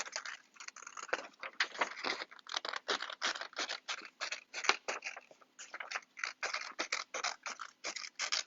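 Scissors cutting out circles of craft material for a railway lantern, close and continuous rapid snipping and scraping strokes in quick succession, with no talking.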